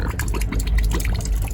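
Water running from a small fold-out sink tap in a sleeper train cabin, a loud continuous gush and splatter into the basin, close up.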